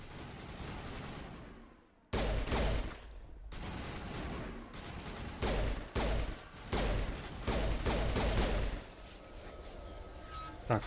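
Gunfire in the sci-fi shooter Mass Effect comes as several bursts of sharp, rapid shots broken by short pauses, fairly loud and close, with a quieter stretch of game ambience at the end and no talking.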